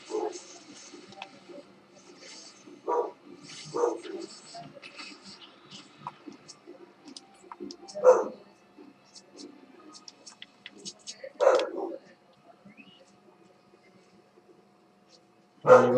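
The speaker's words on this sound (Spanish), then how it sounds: "Está con el perro salvaje." A wild dog in Final Fantasy XIV gives short, separate barks and yips, spread out over several seconds. The calls sit over quiet game ambience, and the last one is loud and close.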